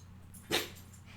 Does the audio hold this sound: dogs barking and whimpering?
yes